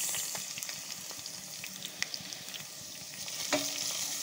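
Carrots frying in a pan with golden-brown onion, salt and turmeric make a quiet, continuous sizzle broken by scattered crackles and stirring scrapes, with one sharper clink near the end.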